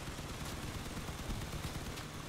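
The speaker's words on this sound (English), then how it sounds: "Man, those cannons hit hard." Cannons fire in the vehicle combat game Crossout, a dense, continuous barrage of loud booming and rattling shots with heavy low-end impacts and no pauses.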